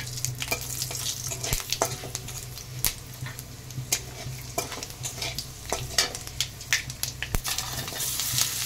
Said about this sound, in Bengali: এখন ফোড়নে দিয়ে দিলাম 5 ফোড়ন আর